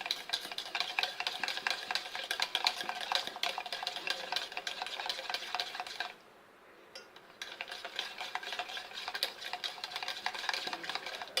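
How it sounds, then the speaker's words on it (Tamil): Butter, eggs and sugar being mixed for a cranberry white cake batter, a continuous close scraping and clattering of stirring in a bowl, briefly pausing midway before resuming, with no talking. "இது இப்போ வந்து நல்லா கலக்கிட்டேங்க, வெண்ணெயும் முட்டையும் சர்க்கரையும்."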